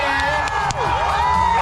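Crowd at a county fair cheering and whooping for a frisbee dog's jump, a short, loud burst of mixed shouts including children's voices.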